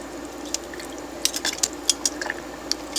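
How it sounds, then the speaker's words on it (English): Stinging nettle is pushed down into a pot of boiling water, giving soft wet squishes and scattered light clinks of metal against the pot, quiet and close, with no talking. "put it in a pot of boiling water"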